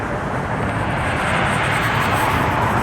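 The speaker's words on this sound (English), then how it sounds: "It's Aeronaves heading to IDK. It's an MD-83." An Aeronaves MD-83 jet passes close by with a loud, steady broadband engine roar that fills the whole few seconds without a break or any talk.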